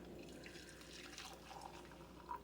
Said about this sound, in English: We're going to pour our tea over in the cup.